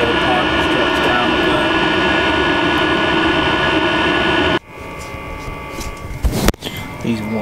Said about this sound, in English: So this is without the muffler.